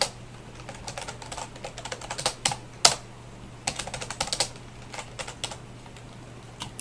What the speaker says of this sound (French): je vais taper un code et vous allez comprendre